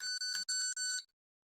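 An electronic buzzer alarm on an IoT device that reminds users about medical supplies sounds a shrill, high-pitched tone in four quick beeps, then stops into silence. The beeps are loud and close, with no other sound.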